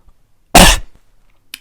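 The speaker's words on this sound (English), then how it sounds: "if I cough right now, I'm going to break your ears" A single sharp, loud cough close to the microphone, followed by a tiny breathy sound about a second later, otherwise near silence.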